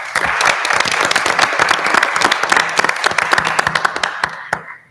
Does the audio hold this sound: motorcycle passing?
no